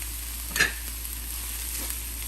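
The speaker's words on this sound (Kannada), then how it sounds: "ಈಗ ರವೆ ಹಾಕ್ತಾ ಇದ್ದೀನಿ" Semolina (rava) poured into a hot pan, a short bright sizzle burst over a steady low frying hiss, close and fairly faint, no talking.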